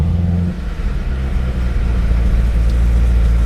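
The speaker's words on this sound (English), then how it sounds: "simply hit the button to start the engine" A 2011 Chevrolet Corvette Z06 Carbon Limited Edition engine running just after start-up, a loud, close, deep rumbling idle that holds steady with slight shifts in pitch.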